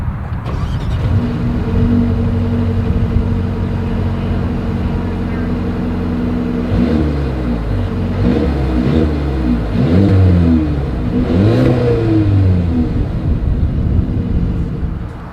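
Deep Mercedes-Benz GLB250 engine rumble idling, then rising and falling revs in several surges through dual exhaust, loud and close with a throaty exhaust note.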